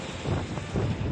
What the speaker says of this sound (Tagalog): Grabe lakas ang hangin.